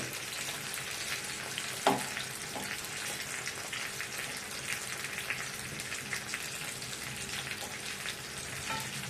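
Eggplant sizzles and crackles in hot oil, a dense steady frying hiss up close, with one brief clink of a utensil early on.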